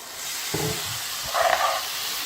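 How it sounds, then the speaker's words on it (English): Washed rice frying in ghee in a pan over medium heat: a steady soft hiss and sizzle with a few brief stirring clinks. "And mix it around in the ghee. And let that fry for about 5 minutes."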